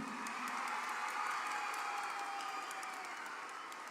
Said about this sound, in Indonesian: Kita berikan tepuk tangan buat anak-anak semua.